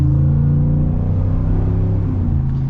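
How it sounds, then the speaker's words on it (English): A 2022 Ford F-150 Rocky Ridge K2 pickup's 5.0 V8 engine gives a steady, close, loud low rumble with a rich, even drone that swells slightly throughout, with no talking. "Listen to that V8."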